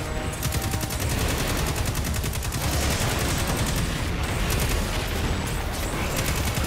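Nonstop gunfire in the video game Destiny 2, a dense, loud barrage of rapid automatic shots and booms filling the whole stretch with no pause, and no voices over it.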